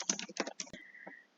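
Quick bursts of typing on a computer keyboard, a handful of close, crisp key clicks in fast clusters over about a second, followed by a faint tone.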